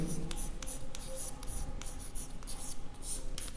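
Pen or chalk writing on a board during a maths lesson on the surface area of a sphere, a run of quick scratchy strokes and taps in an uneven rhythm, close and fairly quiet, with no talk.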